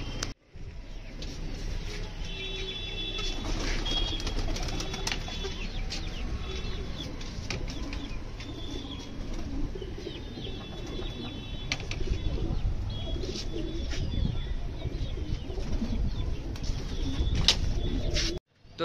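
Pigeons coo softly and repeatedly while wings flap in short bursts as the birds are moved into a new coop, with light rustling and handling noises throughout.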